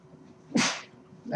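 A single sharp sneeze bursts out of a quiet room, followed moments later by a softer voice starting to speak.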